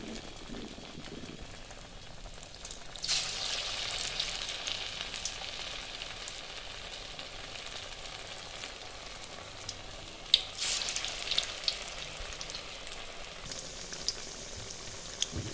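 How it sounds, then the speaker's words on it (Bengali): Potol koftas deep-frying in hot oil in a kadai give a steady, hissing bubble close by, which swells in intensity partway through and keeps crackling with scattered pops, and no one speaks. "এভাবে কোফতাগুলোকে ভেজে নিতে হবে"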